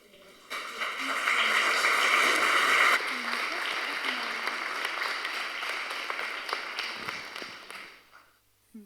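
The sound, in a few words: audience applause after a conference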